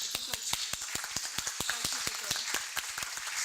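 An audience at a research data management forum claps in dense, steady applause, heard at moderate distance and quite faint.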